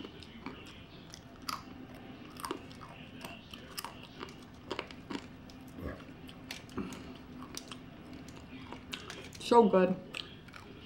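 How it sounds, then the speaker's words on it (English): Crunchy macaroni and cheese pizza is chewed close to the mic, with scattered crisp bites and soft mouth sounds; a voice briefly speaks near the end. "The crunchiness on the ends of the pasta is like"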